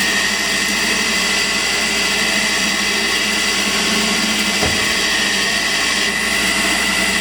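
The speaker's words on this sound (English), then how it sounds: "I'll be drilling it out, reaming it, and then finishing the OD" An aluminium part turns on a lathe while it is drilled and reamed, giving a loud, steady machining whine and hum with a single brief knock partway through.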